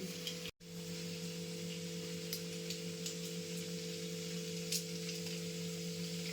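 Butter melting in a pan for butter chicken gives a steady, soft sizzling hiss over a constant low electrical hum, with one brief dropout near the start.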